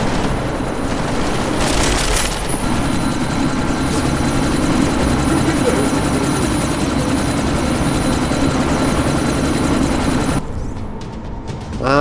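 A helicopter in the video game Deus Ex: Mankind Divided roars loudly and steadily close by, its dense rotor wash holding for about ten seconds before cutting off abruptly.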